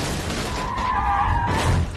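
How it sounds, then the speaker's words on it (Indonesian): In a film scene, a car speeds in and strikes people, heard as a sustained tire skid with a screeching tone that builds over rumbling noise, ending in a rougher burst. "tiba-tiba muncul sebuah mobil yang menabrak mereka dengan kencang"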